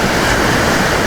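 Ocean waves and swell at a beach, a loud, dense, steady wash of surf noise filling the whole moment with no breaks, close and unbroken.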